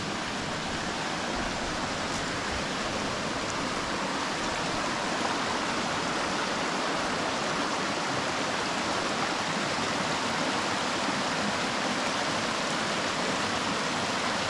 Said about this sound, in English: Got the creek running right behind my camp, so gonna get to fall asleep to the sound of water again.